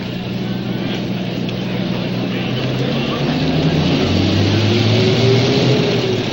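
A truck engine rumbles past on a damp street after rain, a steady low drone that swells slightly louder toward the end, heard alone without voices.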